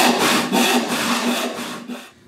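A hand saw cuts through wood in a steady rhythm of about seven back-and-forth strokes, loud, close and raspy, with no voices, before stopping abruptly.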